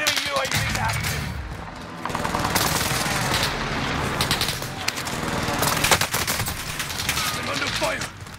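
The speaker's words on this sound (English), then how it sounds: "I'm under fire." Video-game gunfire in a Call of Duty-style Rebirth match: dense, continuous volleys of automatic shots and impacts, loud and close throughout, with game announcer voices mixed in.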